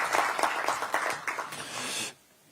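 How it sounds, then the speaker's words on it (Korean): An audience at a Democratic Party election committee launch event in Korea gives a short round of crowded applause that ends abruptly, leaving a quiet hall. "큰 박수 부탁드리겠습니다."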